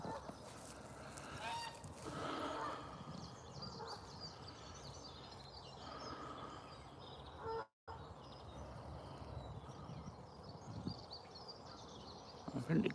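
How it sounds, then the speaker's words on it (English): Geese or ducks honk repeatedly from a distance in a park during an early morning walk, the calls scattered and overlapping over steady outdoor background noise, with a person talking now and then. "I think the geese or ducks are coming towards us."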